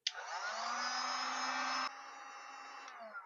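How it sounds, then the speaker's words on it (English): A heat gun blows steadily, heat-shrinking butt connectors while installing a Tusk fender elimination kit on a Kawasaki KLR 650 motorcycle; a continuous close, loud airy roar with a fan hum drops to a lower setting partway through. "we're going to use the heat gun because these are heat shrink connectors"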